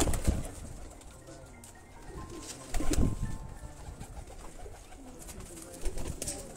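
Pigeons on a rooftop give soft low coos, with a few louder bursts and faint rustling nearby.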